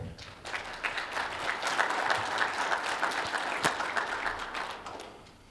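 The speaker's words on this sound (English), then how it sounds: "Can we get a round of applause for John here?" An audience at an informational presentation on a Colorado wildlife bill claps for the event organizer, moderate clapping that swells, holds for several seconds, then tapers off and fades out.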